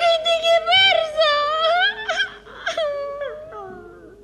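Dogs harnessed to a sleigh howl and whine in long, wavering, rising and falling wails, loud and close, several overlapping cries in a few seconds.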